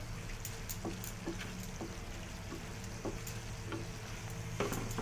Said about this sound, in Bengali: দেখুন ভালো করে নাড়াচাড়া করে নিচ্ছি আমি